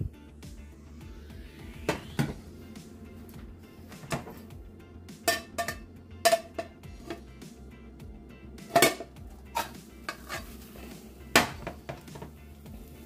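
Spanish potato tortilla flipped in a frying pan using a plate, with a series of sharp ceramic and metal clinks and knocks scattered unevenly over a faint sizzle, close by.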